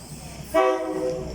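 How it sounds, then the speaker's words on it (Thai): A local Thai train arrives at a small station, sounding a loud, sustained horn blast that starts abruptly partway through over a low rumbling background. "มาแล้วครับรถไฟครับ"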